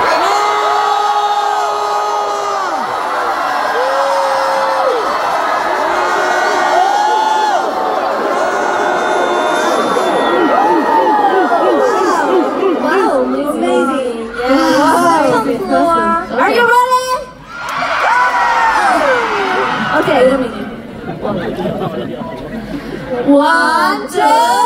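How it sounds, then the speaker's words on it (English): A concert crowd at a K-pop show screams as loud as it can, a dense, close roar of high shrieks and cheers that swells and dips. A voice speaks over it at times. "when I count 1, 2, 3, you scream as loud as you can"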